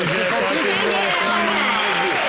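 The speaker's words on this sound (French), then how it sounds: "Sur les applaudissements du public." A TV studio audience applauds during an entertainment show, a loud continuous wash of clapping heard under a voice that talks and sings over it throughout.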